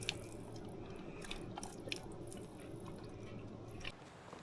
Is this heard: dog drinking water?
yes